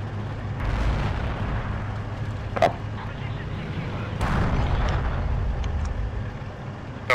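A Panzer IV tank in the Forgotten Hope 2 Operation Goodwood battle rumbles under a steady low engine drone while sharp cannon blasts and explosions crack out at irregular intervals, with someone talking over part of it.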